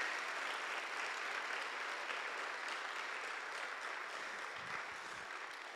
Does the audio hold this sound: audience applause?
yes